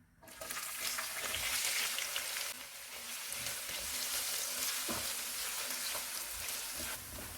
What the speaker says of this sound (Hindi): प्याज डालेंगे और इनको लाइट गोल्डन फ्राई करेंगे।